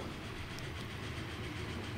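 A train runs in the Train Fever video game, set in the USA around 1960, giving a steady low rumbling roll with faint rhythmic clatter, continuous and moderately quiet without any talk.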